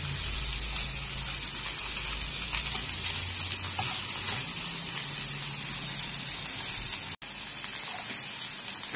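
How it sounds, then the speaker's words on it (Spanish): Tomatoes and bacon frying together in a pan for a full English breakfast, a loud, even, hissing sizzle sustained throughout, close up with one brief dropout near the end, no talking. "Aquí estoy haciendo los tomates. Y el bacon."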